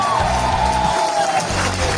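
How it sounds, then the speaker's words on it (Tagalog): A crowd at a Filipino Hall of Fame recognition event cheers loudly, with steady whooping and shouting voices and a faint undercurrent of clapping that holds from start to finish. "Palakpak naman ng malakas."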